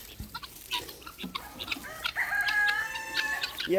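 Guinea fowl and chickens call around a hatchery yard, with repeated clucks and harsh, rising cackles at close to middle distance, growing busier and louder toward the end.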